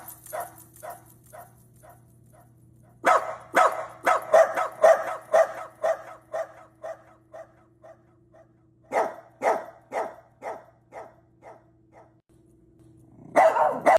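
A dog barks in bursts, with yips and repeated barks close by, over a steady low hum; a quieter stretch comes between louder clusters, and a final burst of barking closes it.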